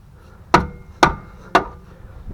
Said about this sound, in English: Use the edge of the hammer.